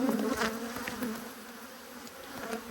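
Honey bees buzz close by during an apiary hive inspection, a continuous wavering drone with individual bees swelling louder as they pass near.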